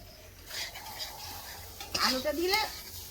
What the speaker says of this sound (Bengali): আলুটা দিয়ে ভালো করে কিন্তু একটু নেড়ে চেড়ে নিলাম।